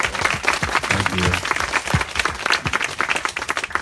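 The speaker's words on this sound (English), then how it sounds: "give her a big round of applause for helping" An audience at a talk with Deepak Chopra claps in a sustained round of applause, dense and steady throughout at close range.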